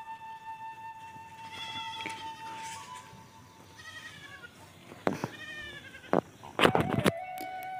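A goat bleats several times, close by and wavering, with a louder clatter of knocks around the last calls. The setting is a pond where fish are being caught.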